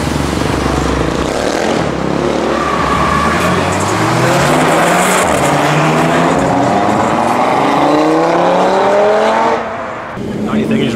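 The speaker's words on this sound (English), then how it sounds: "Quite a few cars buzzing round." Cars at a nighttime Halloween car meet in London, engines buzzing and revving as they circle nearby, pitch rising through the gears, loud and continuous over a rumbling background.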